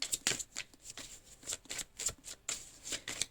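Tarot cards being shuffled, a quick run of crisp riffling flicks and soft slaps repeating in an uneven rhythm, close and fairly quiet with no voice over them.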